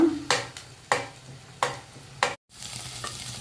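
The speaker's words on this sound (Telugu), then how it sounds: "ఆనియన్స్ బాగా వేగాయి" Onions fry in hot oil in a pan for Andhra fish curry, a steady close sizzle broken by five regular scraping stirs of a spoon.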